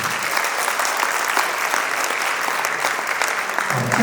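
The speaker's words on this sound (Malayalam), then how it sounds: "നന്നായിട്ടൊന്ന് കൈയടിച്ച് പ്രോത്സാഹിപ്പിക്കാം." An audience at a presidential address claps together in sustained, dense applause, a loud even roar of many hands lasting throughout.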